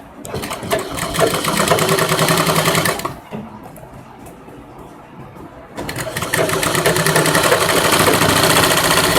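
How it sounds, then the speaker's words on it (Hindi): A sewing machine stitches the side panels of a princess-cut lehenga blouse, running loud and close for about three seconds, pausing briefly, then whirring steadily again until the end. "यहाँ से भी एक सिलाई लगाता हूँ।"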